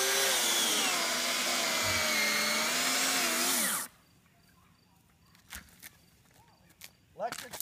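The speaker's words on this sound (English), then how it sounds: "Electric chainsaw, only way to go." A loud electric chainsaw runs steadily for about four seconds, its whine shifting in pitch, then cuts off, leaving quiet with a few scattered knocks and rustles.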